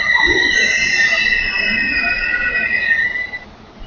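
A train sits at a New Delhi station platform with a steady high-pitched brake whine or squeal that fades out near the end, over a dull station rumble.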